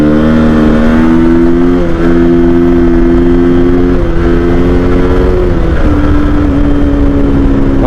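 A KTM Duke or RC motorcycle engine idles and revs loudly up close, a steady low throbbing drone with slight pitch rises and dips as the throttle is blipped, continuous and without speech.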